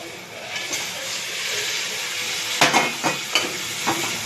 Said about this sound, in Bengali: এখানে আমি দিয়ে দেবো ভেজে রাখা মাছগুলো